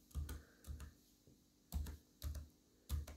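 Keys on a computer keyboard clatter in short bursts, a few quick clustered strokes in each group with brief pauses between them, close and clear in a quiet room.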